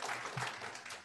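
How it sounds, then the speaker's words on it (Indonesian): Brief burst of clapping from a church congregation at an Easter service, soft and somewhat distant, a quick wash of hands under faint room noise. "Tepuk tangan dulu."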